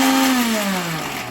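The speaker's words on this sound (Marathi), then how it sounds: "चला 2च मिनटात मिक्सर पण लावून घेऊया आपण" Mixer grinder blending garlic, ginger and green chili into a paste, a loud, close motor whine that drops slightly in pitch as it runs steadily without pause.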